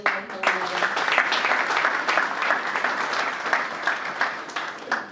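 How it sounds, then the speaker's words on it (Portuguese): An audience at a book launch in a library in Luanda claps loudly and steadily, a dense wash of applause that carries through to the end. "Mais palmas, por favor."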